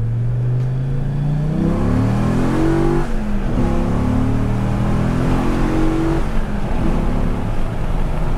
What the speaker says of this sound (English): that sound that the V10 makes, yes, please, give me more